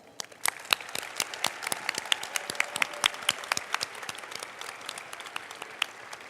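Audience at a school closing ceremony clapping in congratulation, a fairly quiet, scattered patter of individual hand claps, sharp and distinct rather than a dense roar.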